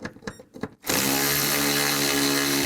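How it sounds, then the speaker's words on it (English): A power tool with a 10mm socket spins out bolts on a 2000-13 GMC Yukon during harmonic balancer replacement, a few short whirring pulses followed by a loud, steady high-pitched run. "I'm going to take these 2 bolts out up top, use a 10mm socket."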